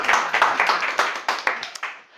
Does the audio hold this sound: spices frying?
no